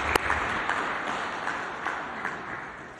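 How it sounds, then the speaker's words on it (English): An audience at a municipal investment summit applauds, steady clapping with a few sharper individual claps standing out, sustained at an even level from start to finish. "Another round of applause, ladies and gentlemen."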